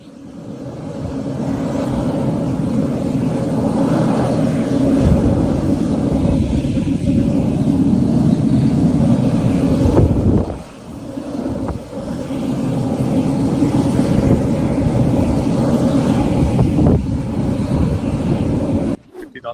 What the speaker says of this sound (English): She is caught here flying around in a private jet.